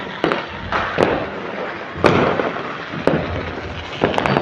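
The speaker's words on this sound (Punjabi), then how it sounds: "ਪਹਿਲਾਂ ਇੱਥੇ ਪਟਾਕੇ ਵੱਜਦੇ ਪਏ ਨੇ" Diwali firecrackers crack and boom from a third-floor rooftop, several sharp bangs at irregular intervals over a continuous crackling wash of distant fireworks.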